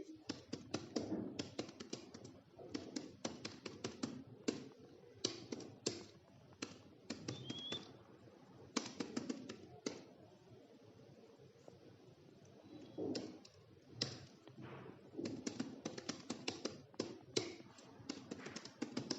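Code typed on a computer keyboard, quick bursts of close, crisp key taps with short pauses between runs, steady and fairly quiet throughout.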